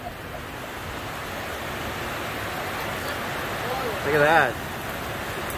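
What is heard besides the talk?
heavy rain and wind during Typhoon Karding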